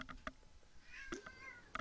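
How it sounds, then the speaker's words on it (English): A pet cat named Shadow gives a drawn-out, rising meow, close and faint, with a few soft clicks and rustles before and after in an otherwise quiet room. "Come here, cat. I know. I have a cat."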